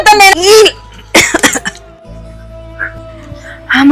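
A person coughs in a few harsh, close bursts, mixed with a strained voice and a short lull between them.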